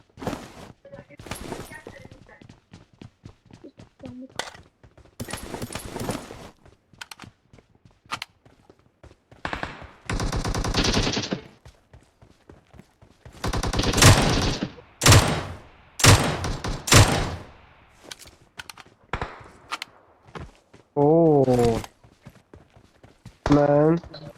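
Video game gunfire comes in scattered bursts of single shots and rapid volleys, mixed with frequent talking and other game noises.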